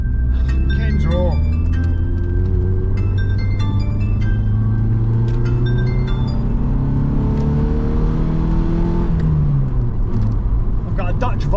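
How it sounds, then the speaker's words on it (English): A Dutch Volvo car speeds up from behind on a motorway, its rising engine note and road roar heard from inside another car under a steady cabin drone, while someone talks. "I've got a Dutch Volvo came flying up behind me there as well."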